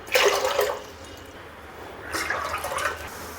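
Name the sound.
water poured into a pressure cooker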